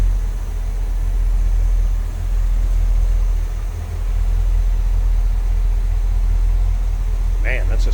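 A 1972 Chevrolet Corvette V8 with a 4-barrel Quadrajet idles smoothly and steadily, a close, even rumble filling the clip with a brief extra noise near the end.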